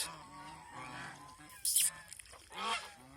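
At a goose farm in Mohanganj, a few nasal honks from geese rise near the microphone, one sharp loud call followed by a couple of softer, drawn-out honks over a quiet background.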